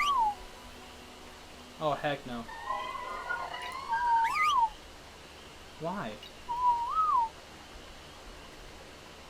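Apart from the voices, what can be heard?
creature whistling in the video game Ark: Survival Evolved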